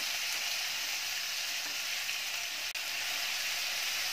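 Chopped tomatoes for baingan bharta sizzle in a pan over medium heat, giving a steady close frying hiss throughout with one brief dip, and no speech.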